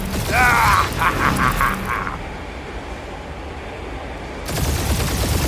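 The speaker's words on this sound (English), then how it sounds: "We're taking fire!" Rapid burst of blaster or gunfire during a space dogfight in Marvel's Guardians of the Galaxy game, a quick rattling volley with mechanical clatter that cuts to a quieter rumbling engine bed before the noise swells again.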